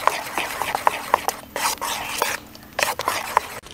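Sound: mixing flour and cake batter ingredients in a bowl

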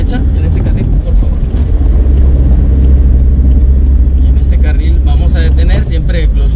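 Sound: manual transmission car accelerating on a hill

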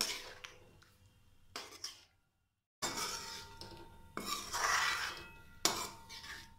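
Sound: stirring masoor dal in a pot

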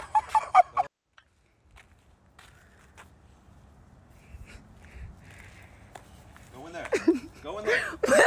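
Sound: goose hissing and honking

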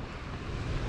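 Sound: wind blowing at the beach

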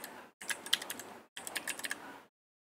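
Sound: typing a username on a computer keyboard

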